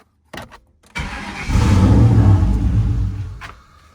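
A stalled Ford Mustang SN95 running on old gas cranks with a couple of short turns, then catches and fires into a loud, rough idle that holds for a couple of seconds before fading.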